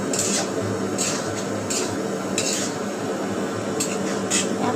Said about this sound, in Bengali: এইভাবে করে এটাকে নাড়তেই থাকতে হবে।